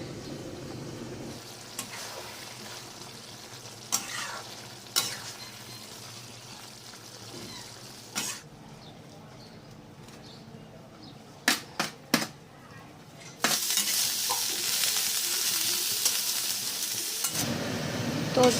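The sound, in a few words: stir-frying vegetable stem curry with spices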